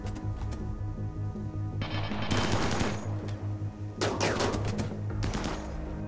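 Automated gun turrets in the game RimWorld fire rapid bursts of gunfire, several loud volleys in a row with brief gaps between them, over a low steady background hum.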